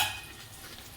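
Brinjal pieces stirred as they fry in a pan for a brinjal curry, a soft steady sizzle with light scraping, faint and close, no voices.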